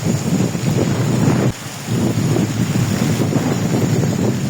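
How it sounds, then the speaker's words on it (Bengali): Strong gusty wind of an approaching Kalbaishakhi storm buffets the microphone in a loud, steady roar, dipping briefly midway before surging back, with no voices. "বাতাসের দাপট এতটাই প্রবল আমি দাঁড়িয়ে থাকতে পারতেছি না।"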